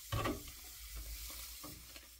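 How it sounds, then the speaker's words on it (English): A utensil stirs soda ash into a container of water for tie dye, a soft swishing and scraping with a sharper knock at the start, quiet and close, with no talking. "take something to stir the water with, stir the water, and mix this in as you're stirring"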